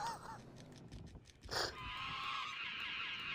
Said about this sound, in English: your bird just fucking went nuts